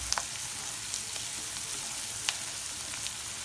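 A spiced filling with chili flakes, black pepper and Italian seasoning is stirred in a hot pan, a steady sizzle of frying with occasional scrapes and taps of the spoon against the pan.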